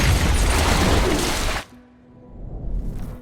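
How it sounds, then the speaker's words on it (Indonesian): A very powerful explosion in a film, set off by a ringing clock, bursts loud and dense, then cuts off abruptly into quiet before a lower rumble swells again. "jam itu pun berdering mengakibatkan ledakan yang sangat hebat"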